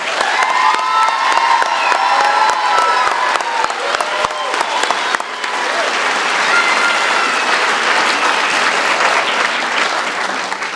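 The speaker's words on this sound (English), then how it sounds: "Let's give them a round of applause." At a 2019 nursing pinning ceremony, the audience gives the graduates a loud, sustained round of applause, thick crowd clapping with cheers and excited shouts rising through it.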